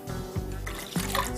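Milk splashes and trickles steadily into a container with yeast for cinnamon bun dough, a close, continuous pouring sound with a few small bursts.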